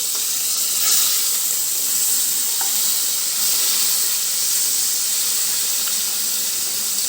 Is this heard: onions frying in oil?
yes